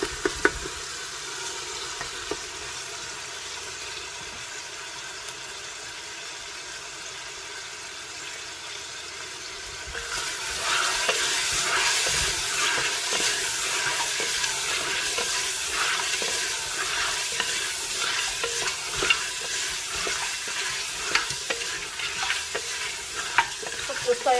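Quiet pan noise gives way midway to louder, continuous sizzling and stirring of meat and onions frying in oil for Afghan zamarod palaw, close up with no voices.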